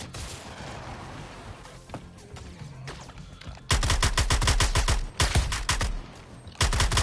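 Dense bursts of rapid gunfire from enemies in the Suicide Squad video game, loud and rattling in clustered volleys after a quieter stretch of game ambience, with brief pauses between bursts.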